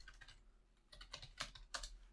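Someone types on a computer keyboard while writing Python code, soft keystrokes at first that become louder and clearer in quick irregular bursts, close to the mic and heard alone without talk.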